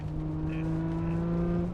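An Alfa Romeo 75 with a fuel-injected Busso V6 hums at a steady, moderate engine note with a smooth tonal drone, heard from inside the car.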